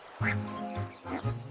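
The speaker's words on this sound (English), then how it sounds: "Mother Duck said, Quack, quack, quack, quack, quack." Mother Duck quacks in a children's nursery rhyme about five little ducks. Three clear, nasal quacks come up close and loud in an uneven rhythm, with no other voices over them.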